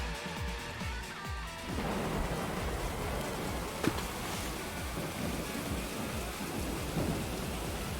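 Heavy rain hisses steadily during a storm scene in the video game AI: The Somnium Files, with low rumbling thunder rolling underneath and a brief sharp crack midway.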